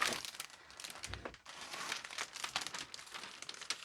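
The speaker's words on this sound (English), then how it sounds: "So now I have a thin cut of the cello roll." Thin cellophane wrap crinkles and rustles close up while a gift basket is being assembled, a continuous crisp crackling with brief louder crunches and no talking.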